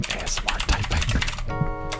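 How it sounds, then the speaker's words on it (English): Rapid, uneven clicking of keys as someone types on a computer keyboard, close and fairly loud, with a short pause before a final keystroke. "typing."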